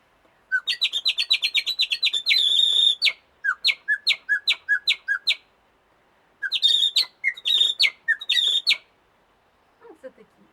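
A person whistles imitations of chaffinch and other small songbird chirps in quick trilled bursts and short repeated notes, separated by pauses and heard close and clear against a silent background.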